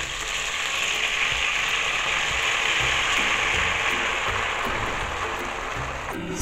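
Semolina being stirred with a spoon in very hot ghee and caramel for halwai-style makhandi halwa, giving a steady, loud, continuous sizzle and frying hiss throughout with no talk.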